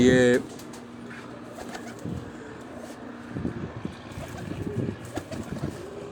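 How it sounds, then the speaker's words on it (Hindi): A pigeon coos in soft low repeated calls under faint background noise, after a brief louder sound at the start. "ये कबूतर को देखें, बोल भी रहा है माशाल्लाह।"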